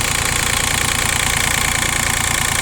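A small Japanese mini excavator with a 0.04 cubic metre bucket runs at idle, its engine giving a steady, even mid-pitched drone with a faint rhythmic knock, loud and continuous throughout with no voices.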